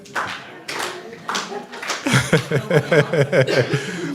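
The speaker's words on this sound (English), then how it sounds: "If you're happy and you know, clap your hands." An audience claps in a quick, rhythmic beat along to the song "If You're Happy and You Know It" at an art, poetry and music celebration, mixed with chatter and chuckles from the crowd.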